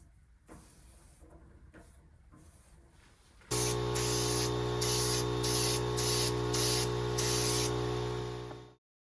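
Mahogany stain is sprayed onto wooden coffee table panels: a loud, steady hissing spray with brief pulsed bursts that starts abruptly after quieter handling noise and cuts off at the end.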